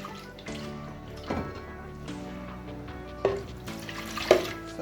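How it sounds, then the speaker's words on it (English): Water pours into a food processor while banga paste is made, a close splashing trickle with small clunks and a couple of sharper sounds near the end. "I'm now going to add a little water."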